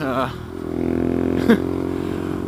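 A Honda Grom motorcycle's small engine hums steadily close by during group riding, with a brief revving pitch sweep near the start and a short clatter midway.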